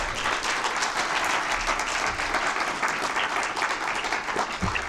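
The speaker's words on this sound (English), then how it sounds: "And one more round of applause for your" Sustained audience applause fills a professorship investiture ceremony for an endowed psychiatry chair, a dense, steady wash of many hands clapping at even loudness throughout.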